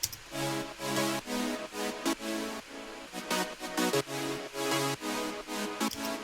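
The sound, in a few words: simple layered saw synth chords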